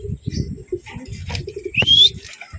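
Racing pigeons flap their wings and coo as they enter the loft after a middle-distance toss race in Moncada, Tarlac, with a short whistle-like note near the end; close and loud, no talk.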